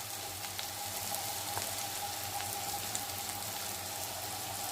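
Bitter gourd and onion frying in a pan, a steady soft sizzle with faint crackling pops running evenly throughout, close and unbroken, with no voices.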